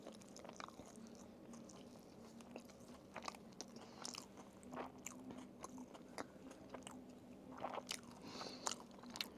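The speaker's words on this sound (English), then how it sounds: "So, first bite." Someone bites into and chews a burger close to the microphone, producing soft repeated crunches and wet squishy chewing sounds in an irregular rhythm, quiet and without talk.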